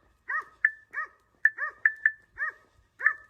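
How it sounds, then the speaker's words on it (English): A navigation app plays a recorded dog-barking sound effect: a run of about nine sharp, clear barks in an uneven rhythm, fairly close and alone, with no talking over them. "added sound effects. The dog barking."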